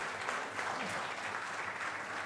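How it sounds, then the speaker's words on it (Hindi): Dense, continuous applause from a seated audience at a Jain spiritual gathering in India, even and moderately loud throughout the short stretch. "एक बार जरूर तालियां बजाइएगा"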